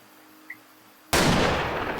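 A hunting rifle fires at an animal around 450 yards away in Africa: after a quiet moment with one faint tick, a single sharp, loud crack bursts out and a long echoing boom trails behind it.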